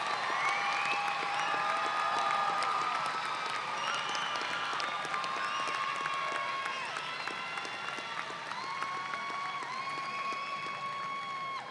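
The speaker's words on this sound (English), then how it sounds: "Please join me in applauding these graduates for their academic accomplishments." A commencement ceremony audience gives graduates sustained, even applause. The wash of clapping is steady and moderately distant, with thin tonal sounds running through it.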